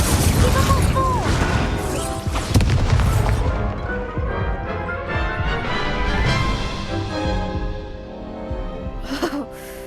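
Fiery spell effects from the game Hogwarts Legacy, a loud burst of whooshing, crackling impacts and rumbles amid in-game music and sound effects, fading over several seconds.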